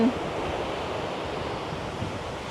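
Sea waves wash onto a beach at Bang Boet in Pathio, Chumphon, Thailand, a steady broadband surf roar with light wind, continuous and fairly close with no voices.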